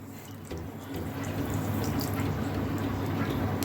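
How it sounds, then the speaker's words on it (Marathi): Water pours steadily onto sugar in a container, a continuous splashing stream that swells after the first half second and keeps running close by. "एवढ्या साखरेत मी अर्धा कप पाणी घालते"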